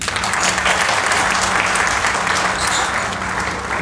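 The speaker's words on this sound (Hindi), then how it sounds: "जो बात मैडम ने रखी उसके मुकाबले में जो तालियां बजी हैं बहुत कम बजी हैं।" Audience applause after a speech at a joint meeting of social organisations on the constitution and democracy: steady, dense clapping that holds at an even, loud level throughout, with no voices over it.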